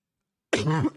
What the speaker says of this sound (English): I don't know why I have a cough.